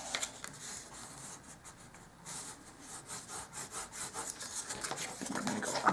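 The flat side of a knife drawn back and forth across folded paper for a miniature dollhouse porch sign, a soft continuous rubbing and scraping close up that grows into rhythmic strokes, with no voices.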